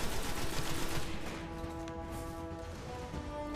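Sustained gunfire in the Destiny video game as a boss is fired upon, a dense, continuous rattle of rapid shots at steady loudness with a few tonal game effects layered over it throughout.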